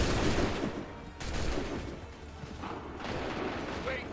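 Musket volley gunfire from a battle in Assassin's Creed III, a dense rumbling fusillade of overlapping shots with booming low end that swells and fades across the moment, heard without speech.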